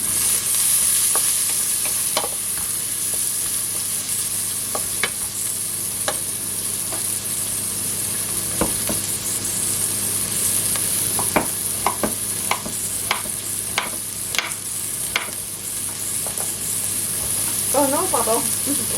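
Vegetables for a potée being stirred in a pot, with a spoon knocking and scraping at irregular intervals over a steady sizzling hiss and a constant background hum.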